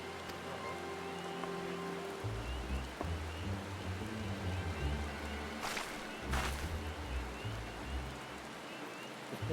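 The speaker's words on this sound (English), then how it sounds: "And it's raining while the scene is happening too." Rain falls steadily during a cutscene in Final Fantasy XIV, a continuous soft hiss of drops with a couple of brief sharp bursts and low rumbling underneath, no talk.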